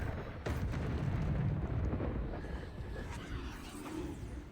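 Loud, booming spell explosions from the Hogwarts Legacy video game, a dense rumbling blast that swells early and then holds as a steady roar of combat noise with no talk over it.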